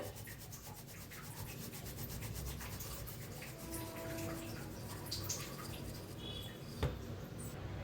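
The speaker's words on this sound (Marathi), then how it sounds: "तर इथं घ्यायचं आहे पीठ चाळून, ज्वारीचं पीठ घेतलेलं आहे। तर चाळून घेऊया।" Jowar (sorghum) flour is sifted through a sieve, giving a soft, continuous rubbing and shushing that stays faint and close, with a single small knock near the end and no voices.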